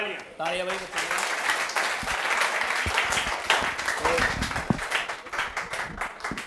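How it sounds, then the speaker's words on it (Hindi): Applause at an award ceremony honouring students, a steady crowd clapping that runs for several seconds at moderate loudness, with a voice speaking briefly at the start. "तालियां भाई बच्चों के लिए"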